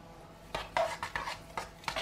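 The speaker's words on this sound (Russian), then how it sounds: "Перемешиваю, накрываю крышкой," Millet and corn-grit porridge with vanilla, turmeric and red pepper being stirred in a pot and then covered with a lid, heard as a few quiet, close metallic clinks and scrapes against the pot in quick, uneven succession.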